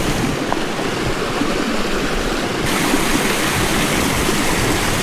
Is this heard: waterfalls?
yes